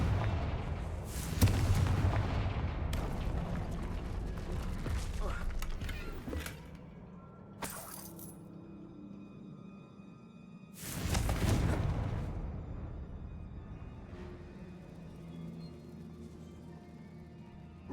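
Confringo blasting spell explosions in the Hogwarts Legacy video game, two heavy booming blasts several seconds apart with rumbling decay and a few smaller sharp cracks between, over ambient game sound.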